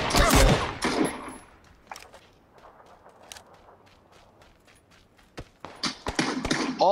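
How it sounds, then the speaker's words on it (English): Gunfire in PlayerUnknown's Battlegrounds, with a loud burst up close at the start, then scattered sharp single shots at a distance before another close volley at the end, and a voice speaking briefly. "Oh, he's trying to shoot me."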